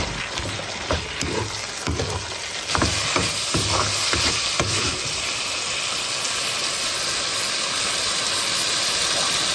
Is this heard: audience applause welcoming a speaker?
no